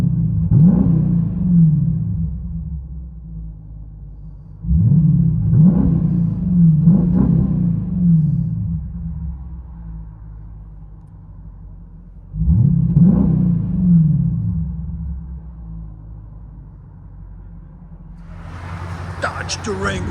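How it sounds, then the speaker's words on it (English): From inside the cabin, a 2022 Dodge Durango R/T 5.7L HEMI with Vibrant mid resonators, an X-pipe and rear delete gives three deep rumbling revs that rise and fall between quiet idle stretches, ending with a brief voice. "Dodge Durango RT HEMI. Vibrant mids, X pipe, rear delete, 5-inch diff."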